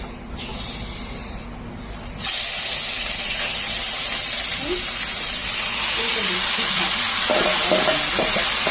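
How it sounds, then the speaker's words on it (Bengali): Marinated meat dropped into hot oil where potatoes were just fried, setting off a sudden loud, sustained hiss and crackle that stays strong and close, with faint stirring scrapes later. "এই তেলে আমি ম্যারিনেট করে রাখা মাংসটা দিয়ে দেবো"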